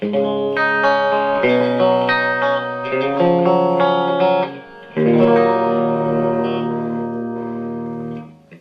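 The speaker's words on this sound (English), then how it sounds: "Here is the drive sound, just the amp clean." Sustained electric guitar chords with Blues Special pickups ring out through a clean tube amp, with a brief dip near the middle before the strumming resumes, loud and close.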